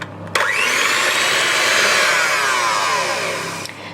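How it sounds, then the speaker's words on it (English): Electric beaters whisk egg whites in a bowl, a steady high-pitched motor whine that starts abruptly and runs continuously for a few seconds before cutting off, close and loud with no talking. "So let's whisk up our whites first."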